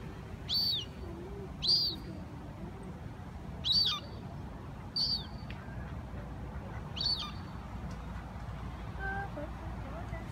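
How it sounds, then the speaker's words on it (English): Small birds around a boating lake give five short, high calls spaced a few seconds apart, clear against a low, steady outdoor rumble with no talking. "Loads of little birds."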